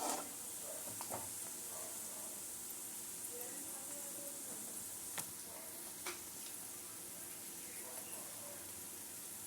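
Besan batter frying in a pan, a soft steady sizzle with occasional stirring scrapes and clicks, fairly quiet and continuous throughout.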